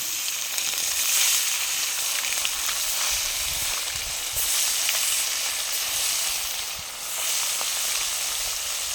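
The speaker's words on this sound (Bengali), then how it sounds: "তেল তো গরম হয়ে গেছে, মাছ দিয়ে দিলাম" Fish fries in hot oil during an outdoor riverside picnic in the Sundarbans, a dense, continuous loud sizzle and hiss that swells and eases slightly, with no talking.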